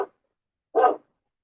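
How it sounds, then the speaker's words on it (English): A guard dog barks twice, close by and loud, with a short gap of quiet between the barks. "Guard dog on duty."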